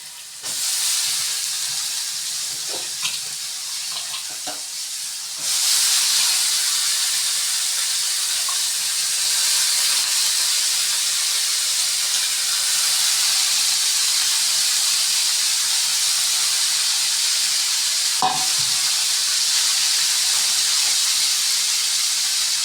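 Broad beans frying with coriander and curry leaves in a pan give a loud, continuous sizzling hiss that jumps up after a few seconds, with occasional faint utensil taps.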